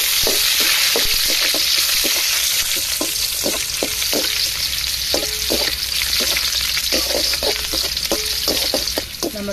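Chopped onions sizzle and fry in hot oil in a kadai for a chicken leg-piece curry. A steady loud hiss runs throughout, with repeated sharp stirring scrapes at a quick, uneven rhythm and no voices.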